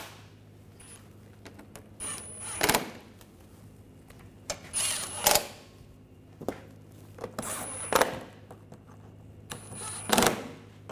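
Bolts on a BMW 328i xDrive 3.0L inline-six water pump being tightened, a handful of short scraping and ratcheting bursts spaced a couple of seconds apart over a low steady hum, close and moderately loud, with no speech.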